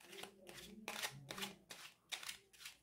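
A Jean Noblet tarot deck being shuffled by hand, quiet repeated bursts of card riffling and sliding in an irregular rhythm, close and soft with no talk.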